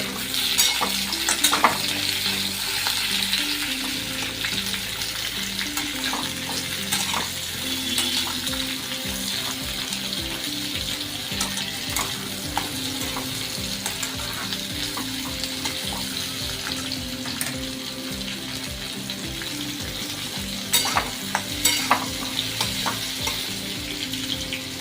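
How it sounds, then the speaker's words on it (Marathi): Onions sautéing briefly in oil in a pan for dhaba-style shahi paneer, a steady close sizzle with scraping stirs and occasional clinks of a spoon, no voices. "थोडासा तेलामध्ये फक्त कलर परतून द्यायचा, आपल्याला पूर्णपणे कांदा भाजायचा नाहीये, फक्त थोडासा गरम करून घ्यायचा आहे।"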